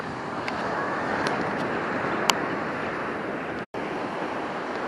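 Surf washing onto a soft-sand beach on the Outer Banks near Hatteras, a steady broadband roar of breaking waves mixed with wind buffeting the microphone, continuous and fairly loud with a brief dropout near the end.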